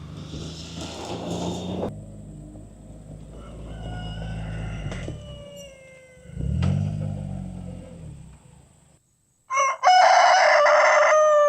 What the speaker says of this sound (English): Proud rooster right there.